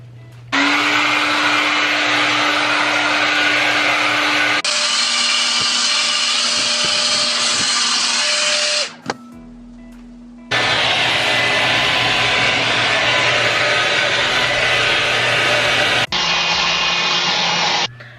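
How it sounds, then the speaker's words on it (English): A loud, steady hair blow dryer whine roars almost continuously close by, cutting out briefly and switching speeds a few times. "With the heat from the blow dryer, it'll kind of liquefy and like seal in."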